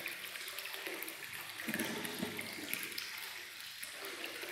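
Air blown through new aquarium tubing pushes into a clogged air conditioner drain pipe, producing a steady, faint, watery hiss and gurgle that runs the whole time without speech.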